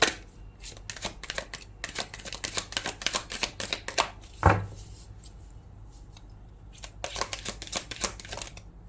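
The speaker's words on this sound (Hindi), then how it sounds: "बहुत सारे कार्ड्स आ गए हैं, फिर से शफल करती हूँ।" Tarot cards are shuffled by hand in a quick series of crisp riffling flicks and bursts, with a sharper knock midway and a brief pause before another run of shuffling.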